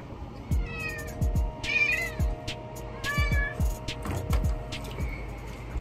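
A sphinx cat being given a bath in a bathroom lets out repeated loud, drawn-out protesting meows, several in a row at close range, with faint clicks and small knocks between them.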